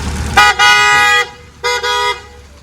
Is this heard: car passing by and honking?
yes